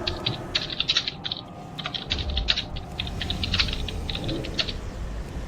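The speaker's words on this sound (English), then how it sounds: "Who's typing?" Rapid, irregular clicking of computer keyboard keys pressed by a player during a World of Warcraft session, quick bursts of keystrokes, moderately close, over a faint background hum with no talking.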